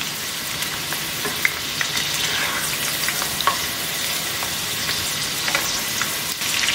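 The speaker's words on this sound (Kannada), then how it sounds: "ಚೆನ್ನಾಗಿ ಬ್ರೌನ್ ಕಲರ್ ಆಗೋವರೆಗೂ ಇದನ್ನ ಚೆನ್ನಾಗಿ ಫ್ರೈ ಮಾಡ್ಕೋಬೇಕು ನಾವು" Sweet corn pakoda fritters deep frying in hot oil, giving a steady, close crackling sizzle with scattered sharper pops throughout and no talking.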